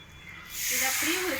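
Achu murukku batter sizzles in hot oil as the mould is dipped in, a bright frying hiss that swells suddenly and holds steady, with a voice talking over it.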